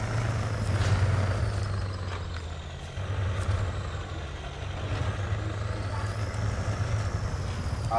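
Duramax-engined truck driving in Snowrunner, a steady low engine drone running continuously and fairly loud throughout, with faint mechanical clunks and a rising whine near the end.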